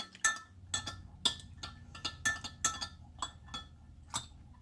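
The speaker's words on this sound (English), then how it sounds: "Now we'll stir it and see if that looks like enough." A spoon clinks against a glass while stirring a frozen coffee mocha, giving a quick uneven run of bright clinks and taps, close up with a faint background hum and no talking.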